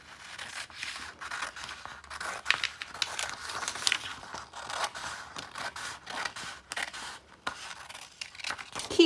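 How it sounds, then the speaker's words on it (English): Scissors snip through a sheet of A4 paper, folding it in half to make a small notebook, with a steady run of close crisp cutting and rustling paper sounds, no talking. "So cut this in half."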